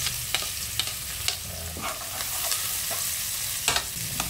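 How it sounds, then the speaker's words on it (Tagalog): Garlic and onion sautéing in a pan of hot oil with spices for chicken curry, a steady sizzle punctuated by several sharp utensil taps and stirring scrapes, close up. "Sunod na natin yung bawang. Then, sibuyas."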